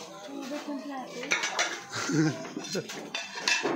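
Dishes and cutlery clatter and clink close by in an irregular rhythm, with a person talking over the washing-up noise.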